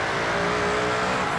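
Alfa Romeo Giulia GTAm engine in the Forza Horizon video game, a steady loud engine drone held at high revs, close and continuous with no talk.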